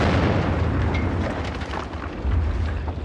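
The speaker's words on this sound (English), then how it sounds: "the biggest barrage of the war, and it's fallen on all the wrong bloody places" WW1 artillery barrage, continuous rumbling explosions and booms blending into a dense, loud roar of distant and nearer shell bursts with no talk.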